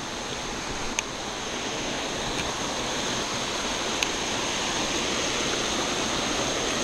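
Steady roaring rush of water from a nearby waterfall, broad and continuous, with a couple of faint clicks or taps over the constant wash.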